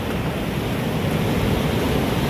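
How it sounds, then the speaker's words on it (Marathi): Steady, rushing flow of water, loud and continuous with no pauses and no voices, like a river running nearby, in a river swollen by a big flood below a dam. "अख्खा पूर्ण आवाज येत असेल तुम्हाला पाण्याचा"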